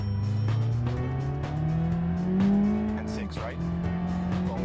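A front-wheel-drive Group A rally car in a racing game drives hard on a quick dirt stage, its engine droning loudly and rising in pitch under steady throttle. Brief tire skids break in, and a voice talks over the engine throughout.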